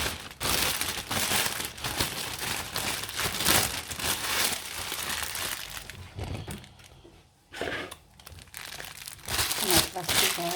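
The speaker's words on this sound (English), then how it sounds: "Then I give it to my plastic bag." A plastic bag is rubbed and crinkled up close while making koki, in loud bursts of crackling rustle, briefly quieting before resuming.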